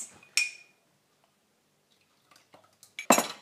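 A utensil stirring culture into warm soy yoghurt mixture, producing a few sharp clinks and scrapes against the bowl separated by near silence, with a cluster of louder knocks at the end.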